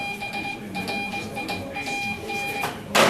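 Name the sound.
name Brian beeped in Morse code on telegraph buzzer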